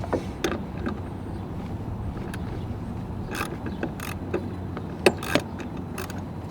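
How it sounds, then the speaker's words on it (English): Bolts being worked loose from the windshield wiper linkage of a Chevrolet HHR, with soft ratcheting clicks and metallic creaks over a low steady hum, a few sharper ticks standing out near the end. "now we're going to take the 3 bolts off to take the linkage off"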